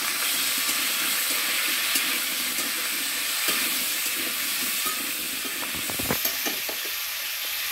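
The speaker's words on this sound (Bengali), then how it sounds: "প্রথমে আমরা আলু আর ফুলকপিটা ভেজে নেব।" Potatoes and cauliflower fry in a pan, giving a loud, steady, close sizzle throughout, with a few light clinks of a utensil near the end.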